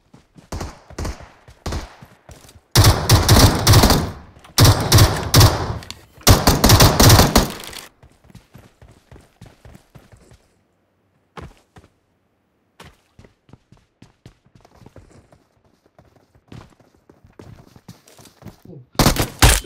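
Video game gunfire, with loud rapid automatic bursts that roar continuously for several seconds, then fade into sparse, quieter clicks and distant single shots.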